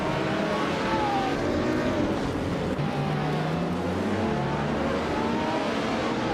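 Race cars roar through a video game race, a dense, continuous engine drone with overlapping pitch glides as cars rev and jostle, loud and unbroken throughout.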